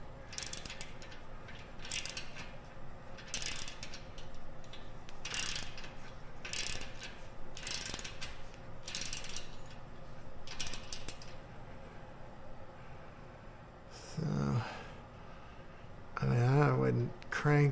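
Nuts of 17 millimetres on a UF-1186 home gym are cranked down with an Allen wrench, giving repeated close bursts of metallic ratcheting and clicking in an irregular rhythm, with someone talking throughout.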